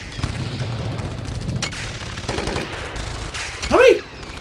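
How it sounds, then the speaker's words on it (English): Rapid bursts of steampunk video game gunfire crackle in the background under a low rumbling mix, ending with a brief louder swell. "That's a lot of gunfire."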